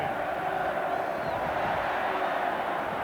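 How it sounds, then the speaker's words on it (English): Stadium crowd at a Canterbury versus Otago Ranfurly Shield rugby match at Lancaster Park in 1994, a dense, steady roar that holds at the same level throughout, with a faint commentator's voice beneath it. "The noise is amazing. The crowd has lifted the lid off Lancaster Park this afternoon."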